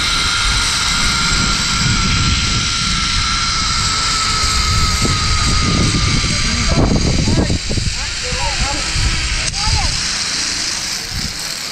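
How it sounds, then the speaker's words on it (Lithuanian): A steady, high-pitched whirring drone hovers overhead at the Tegalalang rice terraces in Bali, its whine holding constant while people talk and call out nearby. "Čia droną filmuoja, gal Deivis?"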